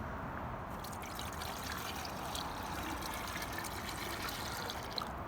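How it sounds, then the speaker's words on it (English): Water running steadily into a vase, a continuous even trickling and pouring with no pauses, close by and fairly loud throughout. "So let's fill that with water."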